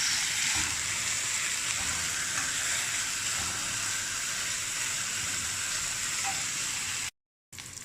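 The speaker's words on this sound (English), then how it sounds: "Give it a good fry." Meat sears in a pan in a steady, loud, dense sizzle that runs unbroken, with a brief dropout near the end.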